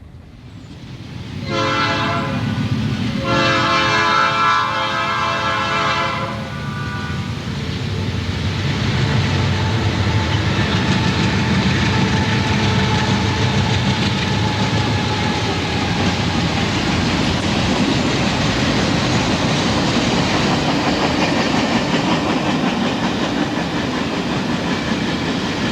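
A loud horn blares twice as a Norfolk Southern diesel freight train draws near at Bluefield in 1990, then heavy wheels rumble and clatter steadily past for a long stretch.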